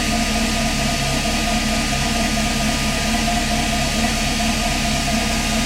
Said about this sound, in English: Kind of a noisy fan, ain't it?